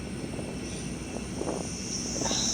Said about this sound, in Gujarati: કેવડું મોટું હેલિકોપ્ટર છે.